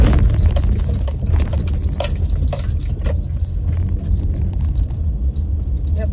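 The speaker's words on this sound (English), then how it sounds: "Yep, so there's a lot of traffic." Heavy road traffic heard from inside a vehicle stuck in a jam: a continuous loud broadband rumble and hiss of passing cars with scattered rattles, no talk.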